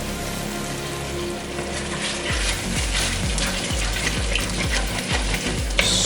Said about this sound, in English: You're just basically, what this is called deglazing the pan.